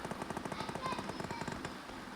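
Rapid bursts of automatic gunfire from the video game BGMI (Battlegrounds Mobile India) crackle in a quick, even rhythm, fairly faint and continuous for a couple of seconds, heard right after landing.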